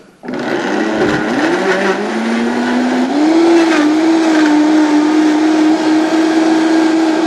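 A blender whirs continuously as it blends olive oil and water, the motor starting abruptly, dipping briefly, then climbing and holding a steady loud whine throughout.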